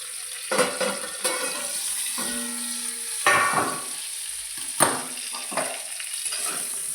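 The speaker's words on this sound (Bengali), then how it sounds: "এই যে এদিকে একবার আমি বেগুনটা নেড়ে নেব" Brinjal slices frying in oil, a continuous sizzle broken by several sharp scrapes and clatters of a spatula stirring and nudging the pieces, close and fairly loud, no voices.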